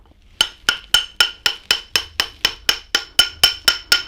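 A gas cylinder wrench, used in place of a hammer, strikes something in about fifteen evenly spaced, close, sharp metallic hits, each with a short ringing tail, in a steady rhythm with no talking.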